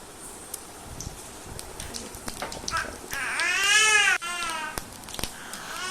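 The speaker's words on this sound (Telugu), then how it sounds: "మా చిన్నోడు అయితే అరుస్తూ ఉన్నాడు." A small child cries loudly in a home kitchen during coconut chutney making, rising to a strained wail around the middle and cutting off abruptly, with faint background clatter.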